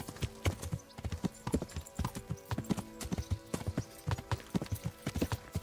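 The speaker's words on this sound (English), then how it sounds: "make sure I don't inadvertently ride the horse off a cliff" Horse hooves clip-clop steadily while riding in the video game Kingdom Come: Deliverance, a brisk, even rhythm of close, loud hoofbeats continuing throughout over faint background tones.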